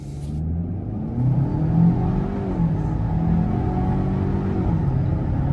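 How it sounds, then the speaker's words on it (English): A 2025 Ford Escape ST-Line Elite in sport mode pulls hard from a standstill toward 60, its engine note rising and sweeping upward in a steady, close, moderately loud interior drone. "I'm gonna put it into sport mode here, and then we're just kind of gonna give it a 0 to 60 to see that full performance"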